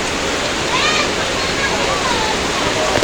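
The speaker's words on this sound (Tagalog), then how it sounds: "Pinasok na yung tubig." Typhoon floodwater pours and rushes into a house, a loud steady torrent of gushing, splashing water filling the whole clip.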